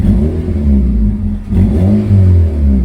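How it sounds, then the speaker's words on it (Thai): A Honda Civic FD engine revs loudly after its faulty ignition coil was replaced, the exhaust rising and falling in two strong surges with a brief dip between them. "สังเกตเสียงท่อครับผม"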